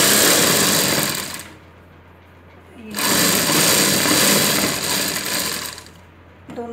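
A sewing machine stitches a sleeve joint in two loud bursts of rapid rattling, each lasting a couple of seconds, with a short quiet gap between them and a voice speaking in the background.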